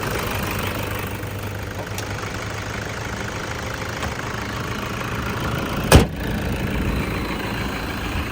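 A 2013 Toyota Fortuner 2.5 G automatic runs at a steady idle, a close, even engine drone with one sharp knock partway through.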